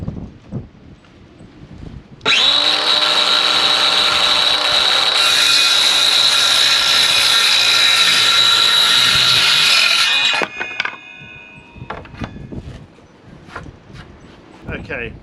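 A cordless circular saw cuts through a large floorboard with a loud, steady, high-pitched whine lasting about eight seconds, followed by clattering knocks and handling noise as the saw stops.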